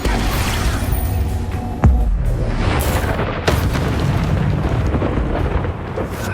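Expulso, an explosion spell in the video game Hogwarts Legacy, bursts with two loud booms about two seconds apart over a dense rumbling roar of battle noise.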